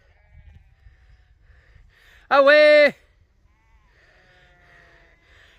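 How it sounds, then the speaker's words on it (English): A sheep on an Irish farm lets out one loud, close bleat lasting about half a second, set against quiet outdoor background with someone speaking briefly to a sheepdog. "So there's a sheep here."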